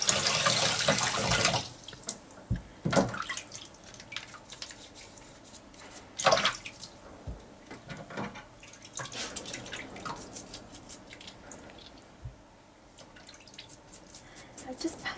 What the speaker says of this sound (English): I can give them a little bit of a rinse.